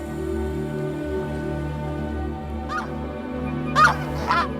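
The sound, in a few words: birds honking in flight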